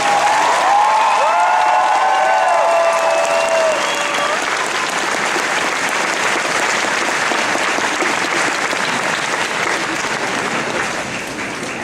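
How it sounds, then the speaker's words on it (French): An audience at an anime convention masquerade gives loud, sustained applause and some cheering for the junior costume contestants, with an announcer speaking over the first few seconds. "Une bonne main d'applaudissements pour nos juniors."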